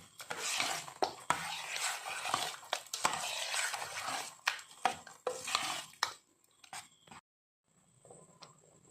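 A spoon stirs a dal mixture with tamarind water, turmeric and salt in a pot, giving repeated wet scraping swishes with utensil knocks, then a few scattered clinks and a near-silent pause.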